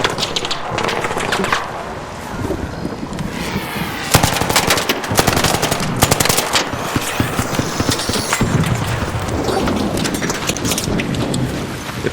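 Rapid bursts of video game gunfire crackle in a dense, loud stretch, with sharp volleys of shots and clattering impacts piling up over several seconds and no talk.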